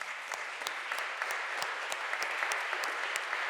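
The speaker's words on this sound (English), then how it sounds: "Let's give them one more big round of applause." An awards dinner audience gives a sustained round of applause, steady massed clapping with distinct sharp claps, heard somewhat distant and moderately quiet, continuing evenly without talk.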